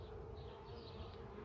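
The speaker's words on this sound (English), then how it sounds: "I'll leave the bees out here with it for a little bit just to let them fly back in." Honey bees flying around their hive in the late afternoon, a continuous soft buzzing drone of many insects, faint and steady, with no voices.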